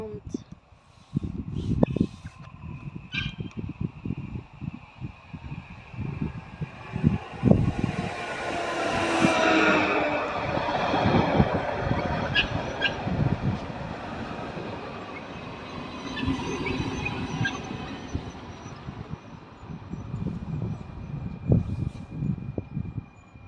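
An ED160 electric intercity train rolls through Zgierz Północ station, a steady broadband rumble with rail clatter and brief high squeals building and fading over the span, while voices talk over it.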